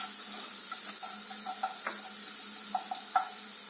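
Red capia pepper and onion frying together in a pan, a steady soft sizzle with scattered light clicks and scrapes of stirring, close and continuous with no talk.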